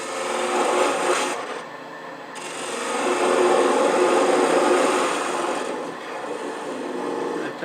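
Bubinga wood being parted off on a lathe, a continuous whirring cut whose pitch and loudness swell and ease as the tool bites, heard close with no talk.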